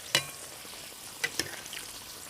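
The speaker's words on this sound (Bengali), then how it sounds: "এবার কচুরি একে একে তেলে দিয়ে খুব ভালোভাবে ভেজে নেব" Kachoris bubbling in a pan of hot oil give off a soft, continuous sizzle, broken by a few crisp crackles and spits, close by and without any talk.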